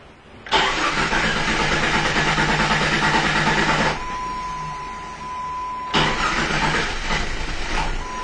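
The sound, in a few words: 2004 Jeep Cherokee engine cranking and starting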